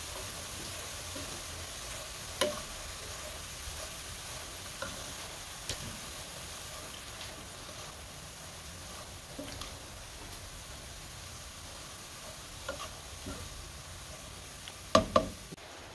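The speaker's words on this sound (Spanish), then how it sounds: "Hoy agregamos el repollo rallado. Vamos a mezclar bien para que se integren todos los sabores." Grated cabbage frying in a pan and being stirred, a soft continuous sizzle with occasional knocks and scrapes of the utensil, a cluster of louder clacks near the end.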